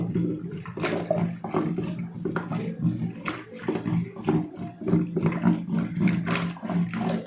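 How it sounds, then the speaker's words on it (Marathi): Spiced buttermilk with masala being whisked with a wooden churner, a rhythmic swishing and sloshing of liquid in repeated quick strokes, close and fairly loud. "असं छान रईने फेटून घ्यायचं, जेणेकरून सगळे मसाले एकत्र झाले पाहिजे."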